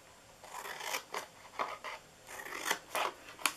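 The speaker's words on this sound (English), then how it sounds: "I'm going to cut a little bit out here." Scissors snip through paper while a Santa treat bag is being cut, with about ten short, crisp cuts in an irregular rhythm, close and moderately loud.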